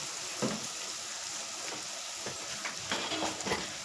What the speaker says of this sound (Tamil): இது பச்சை வாடை போகிற வரைக்கும் ஒரு 2 நிமிஷத்துக்கு வதங்கட்டும்